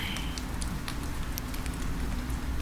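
Soft, steady rain patters outside a tavern as a constant gentle hiss, with scattered light drop taps and no voices over it.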